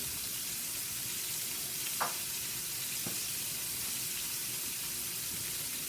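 Thin catfish fillets fry in hot oil with a steady, even sizzle throughout, with two brief soft clinks partway through and no talking.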